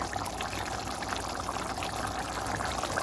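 Onion masala being poured into biryani meat gives a steady, close, wet pouring and trickling wash that continues unbroken throughout.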